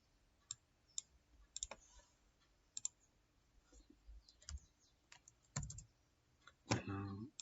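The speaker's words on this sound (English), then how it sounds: "just go and pick a text box, then type inside here" Computer keyboard typing into a text box in a document, scattered quiet key clicks with pauses and a denser burst near the end.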